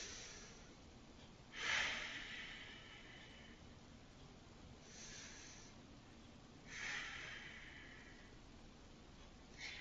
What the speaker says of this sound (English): Big deep breaths here.